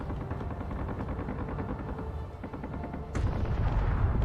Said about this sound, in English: Oh, I'm getting way too close to my own tracer fire.